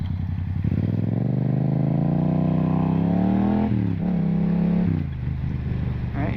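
A motorcycle engine revs and climbs steadily, then drops abruptly twice as two gears go down, each downshift marked by a quick throttle blip and a brief clatter, close and loud.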